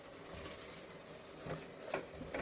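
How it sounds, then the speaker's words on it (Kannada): Onion and tomato frying in oil for tomato bath, a soft continuous sizzle with faint stirring scrapes and a few brief clinks, quiet and close with no talk. "ಎಣ್ಣೆಯಲ್ಲಿ ಈರುಳ್ಳಿ ಟೊಮೆಟೊ ಜೊತೆ ಫ್ರೈ ಮಾಡ್ಕೊಳ್ಳೋಣ"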